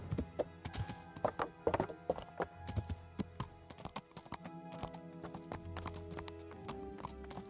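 Horse hooves clip-clopping at a walk in the video game Kingdom Come Deliverance, a steady, fairly close rhythm of hollow knocks, with a soft whinny and no talk.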